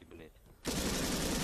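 Loud automatic rifle fire from pre-firing upstairs inside a building in Arma 3, a sustained close burst that cuts in sharply after a quieter moment.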